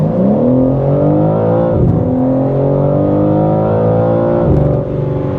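A BMW M3 xDrive's straight-six engine revs hard under launch control and rises in pitch through two gear shifts, a deep throaty roar, loud and close.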